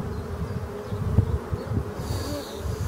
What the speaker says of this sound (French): il y a des abeilles qui vont rentrer